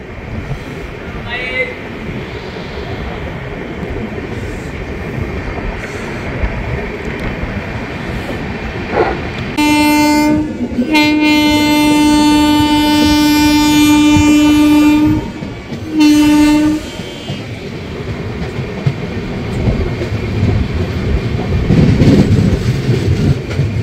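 At Garhbeta station, the 12883 Rupasi Bangla Express sounds its horn in long, loud, sustained blasts with a brief break between them, over a constant heavy rumble of the moving train.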